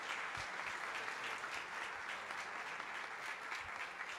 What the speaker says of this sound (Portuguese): Vamos dar mais um aplauso a Jesus pela vida do apóstolo Marcel.